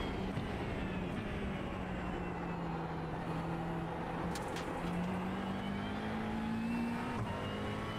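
GT3 race cars battle for slipstream at Le Mans in a racing video game, engines droning steadily with shifting pitch and overlapping tones, a faint, continuous roar throughout.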